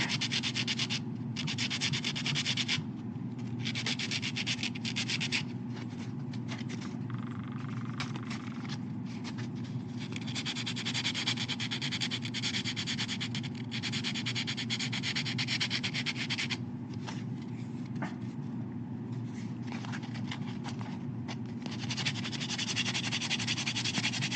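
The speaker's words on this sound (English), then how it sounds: "I can do that with just the hand sander." A hand sander smooths a bevel into the fatter part of a wooden base, producing continuous rough rubbing and sanding strokes with brief pauses and rhythmic changes, alone at a moderate level.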